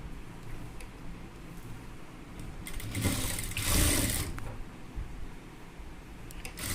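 A sewing machine stitches a folded one-inch fabric edge for a beginner's pant, a steady close mechanical whir that swells louder midway and then settles back.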